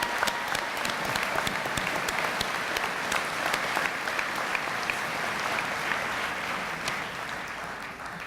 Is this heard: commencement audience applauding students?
yes